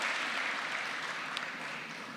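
Congregation at a church sermon gives a round of applause to the Lord, a continuous even wash of clapping with one sharper clap standing out partway through.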